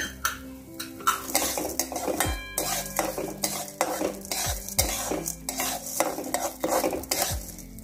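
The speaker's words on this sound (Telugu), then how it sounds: "ఇది 2 స్పూన్ల మినపప్పు వేసి దోరగా వేయించుకోవాలి" Urad dal and coriander seeds dry-roast in a pan over a low flame, a spatula stirring them in a steady rhythm of scraping strokes and sharp metallic clinks against the pan, with no voices.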